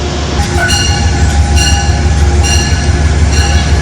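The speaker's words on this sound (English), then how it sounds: "And here's our train, I think." A train rolls into a New York City station steadily, its low rumble joined by repeated bright metallic squeals from the wheels that come and go every second or so.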